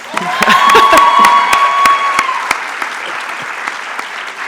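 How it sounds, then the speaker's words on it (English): A convocation audience applauds loudly, with dense clapping, a few cheers and a sustained whistle early on, then the clapping thins out and fades. "One more round of applause for Angel Banks."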